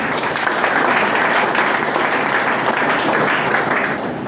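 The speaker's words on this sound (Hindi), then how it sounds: "मैं चाहूंगा भानु सर के लिए जोरदार ताली" A large audience at a Safe Shop business meeting in Ghazipur bursts into loud, thick applause, many hands clapping together in an even, sustained roar that fills the room without pause.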